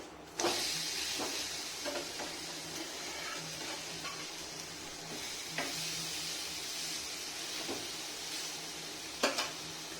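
A semolina masala uttapam with vegetables fries in a pan after being flipped, with a steady close sizzle and a few sharp clinks of a utensil against the pan.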